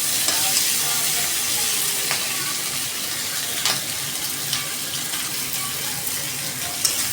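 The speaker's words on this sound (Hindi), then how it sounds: "अब मैं इसे चला लूँगी थोड़ा चला लेने के बाद मैं इसमें डालूँगी हरी मिर्ची।" Onions stir-fry in a pan for chilli paneer, a loud, even hiss of hot oil carrying on steadily, with occasional light scrapes and taps of the spatula close by.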